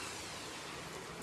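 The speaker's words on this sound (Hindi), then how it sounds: "बारिश लगी हुई है अभी भी।" Steady rain keeps falling after dark outside a window during aluminium partition and sliding-window installation work, a constant soft broadband hiss with no pauses and no talk.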